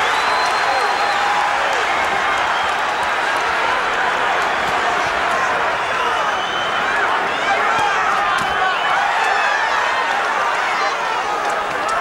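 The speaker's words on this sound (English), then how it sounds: "There is a guttural roar from this crowd wanting to see Gatti close the show." A boxing arena crowd roars steadily and densely throughout, a thick wall of cheering and shouting late in a Arturo Gatti vs. Gianluca Branco fight, with no breaks in the din.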